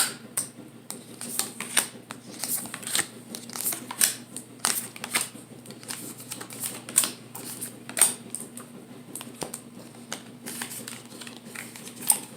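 Slightly sticky, thick tarot cards are shuffled and laid out for a Celtic cross spread, giving a steady run of soft, sharp card clicks and flicks, close and fairly quiet, with no talking.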